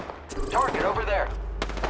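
Gunfire in the battle royale shooter Apex Legends: a loud, brief burst of rapid shots with a short spoken voice line over it.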